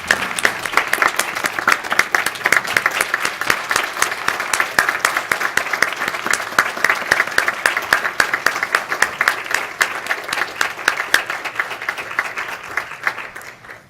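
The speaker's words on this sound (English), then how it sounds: "So, if we could all give her a round of applause." Sustained applause fills a school board meeting room as the audience honors an educator of the year, a dense, loud and even round of clapping that carries on for the full length.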